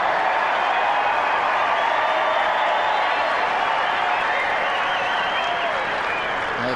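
A vast crowd at a tennis semifinal roaring and applauding at a break point, a loud, sustained, dense wash of clapping and cheering with no pauses.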